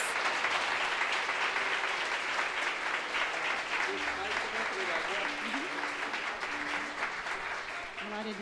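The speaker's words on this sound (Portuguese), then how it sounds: "Dê uma salva de palmas" Church congregation applauding during a Portuguese-language worship service, a dense, steady wash of clapping that holds for the whole stretch, with a voice talking over it in the second half.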